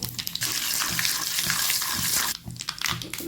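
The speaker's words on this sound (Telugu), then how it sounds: "ఇప్పుడు ఆయిల్ వేడైన తర్వాత జీలకర్ర ఆవాలు ఎండుమిర్చి" Cumin, mustard seeds and dry red chillies crackle and sizzle in hot oil for a tempering, a dense, steady hiss that fills the whole moment and dips briefly near the end.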